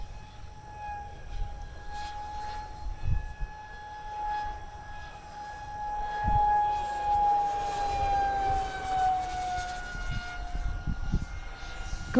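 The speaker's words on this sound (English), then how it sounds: "So this is an underpowered jet." A radio-controlled SU-27 model jet with underpowered propulsion flies past, its steady high whine holding tone and bending in pitch as it moves, with wind and handling noise low underneath.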